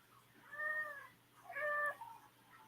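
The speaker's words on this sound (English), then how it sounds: "Hi, kitty cat." Indoor cat meowing twice, two distinct drawn-out meows a moment apart, fairly close but soft against a quiet room.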